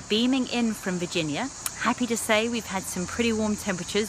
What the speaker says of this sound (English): which is the reason you can hear the cicadas in the background